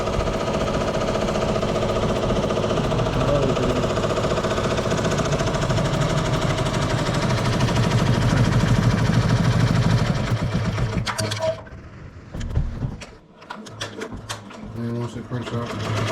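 Embroidery machine stitching a design onto a basketball, a steady rapid mechanical chatter running loud and continuous for about eleven seconds before stopping, followed by quieter clicks and handling noises.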